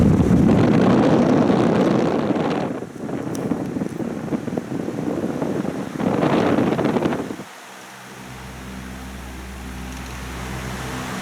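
A large vintage Sanyo oscillating fan runs with a loud, breathy rush of air that swells and fades as the head sweeps past the mic, then drops to a low hum near the end.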